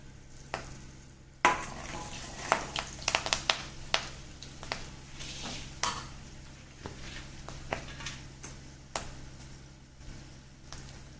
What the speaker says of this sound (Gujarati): જીરું તતડે એટલે આપણે તેમાં 2 થી 3 લંગ લાલ મરચાં લઈશું.